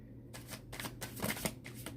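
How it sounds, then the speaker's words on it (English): Tarot cards shuffled by hand, close and crisp, in a run of quick riffling bursts separated by short pauses, with no voice. "I know some people don't like to look at the shuffling."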